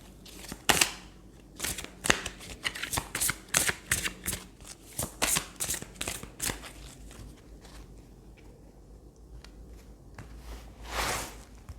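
A deck of tarot cards is shuffled in a run of quick, crisp riffling bursts, then handled more softly with scattered light flicks, close by in a quiet room.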